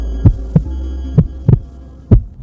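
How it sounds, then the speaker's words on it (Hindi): A heartbeat sound effect with low, loud, close thumps: five beats in an uneven rhythm over a faint steady hum. "आरव का दिल अचानक जोर से धड़कने लगा"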